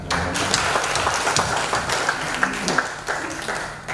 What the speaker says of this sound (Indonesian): ayo kita tepuk tangan